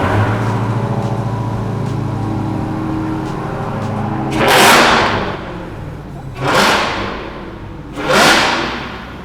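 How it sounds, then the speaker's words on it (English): A supercharged V8 Hemi engine idles with a steady low rumble, then three sharp, loud revs burst out at intervals, each rising and falling away. "it's a V8 Hemi supercharged engine. Maybe should we start up? Let's just start it up real quick."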